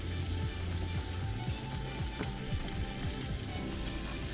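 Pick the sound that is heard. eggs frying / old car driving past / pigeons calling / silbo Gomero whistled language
eggs frying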